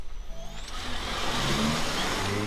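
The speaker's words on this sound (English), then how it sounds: "Notice how the gas engine kicks on earlier and more often than Toyota's hybrid system." A 2017 Kia Niro hybrid's gas engine kicks on and builds to a steady hum under road and tire noise, rising gradually in pitch.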